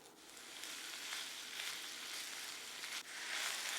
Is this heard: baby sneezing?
no